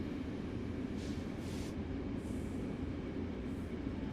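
A train in Train Sim World 4 rumbles past at night near Union Station, a constant loud low roar of wheels on rail with a few faint squeals and clicks above it and no speech.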